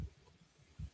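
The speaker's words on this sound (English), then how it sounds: "You can hear the heartbeat of the person next to you." A faint heartbeat in an audio drama, two soft low thuds about a second apart over a quiet hiss.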